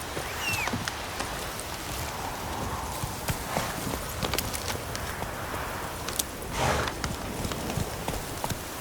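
Geralt's horse Roach clip-clops along at a walking pace in The Witcher 3, a string of soft, fairly faint hoof thuds over quiet game ambience with a brief louder rustle near the end.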